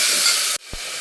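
Onion and tomato sautéing in a pan give a loud, steady, hissing sizzle that cuts off abruptly partway through, followed by one soft low thump and a quieter hiss.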